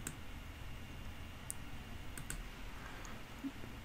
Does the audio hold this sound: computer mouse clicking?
yes